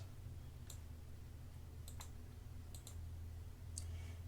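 Several sharp computer mouse clicks sound close and crisp, some spaced apart and some in quick pairs, over a low steady hum.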